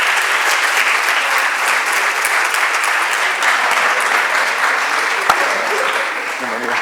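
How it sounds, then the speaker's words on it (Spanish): A large audience at a conference session claps loudly and steadily to welcome speaker Víctor Mesa, a dense, continuous wash of applause heard close and alone. "recibirle con un fortísimo aplauso"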